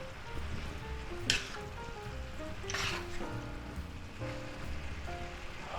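Cabbage, sausage, peppers and onions frying in a pan, a steady close sizzle with scraping and clinking as the mix is stirred, a couple of sharper utensil knocks standing out.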